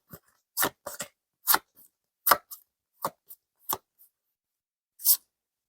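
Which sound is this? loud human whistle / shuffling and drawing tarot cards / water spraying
shuffling and drawing tarot cards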